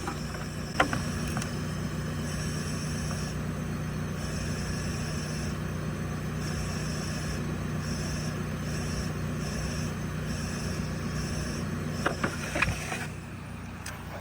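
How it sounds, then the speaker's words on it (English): A Mercedes-Benz S550 S-Class idles steadily at close range while its exhaust air note shifts subtly as a thumb repeatedly covers and uncovers a hole, with a continuous low rumble and faint hiss and no talking. "that is the sound of the air changing whenever I'm blocking the hole and unblocking the hole"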